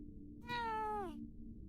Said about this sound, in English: That was an actual cat.